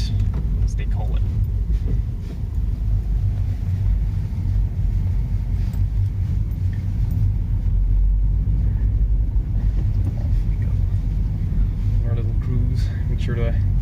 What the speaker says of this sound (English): Make sure the engine gets to warm up before we give her the gas.